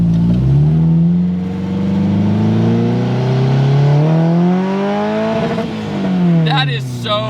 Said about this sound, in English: That is so weird hearing like a Honda rev limiter behind you